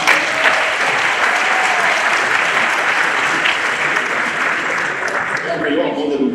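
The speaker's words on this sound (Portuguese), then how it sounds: "Palmas para a Ania" An audience at a legal-practice conference event claps for a speaker, a dense, steady burst of applause filling the room at close range, holding evenly for several seconds before thinning slightly at the end.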